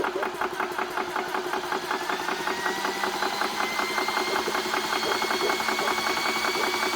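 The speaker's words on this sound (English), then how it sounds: "we'll go ahead and hit the compressor on" A Vevor 4500 psi PCP air compressor, 110 V AC / 12 V DC, runs close by with a loud, rapid mechanical chugging and whine that holds steady throughout.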